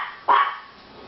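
A pet dog in a home kitchen gives one short, sharp bark, close and clear against a quiet background.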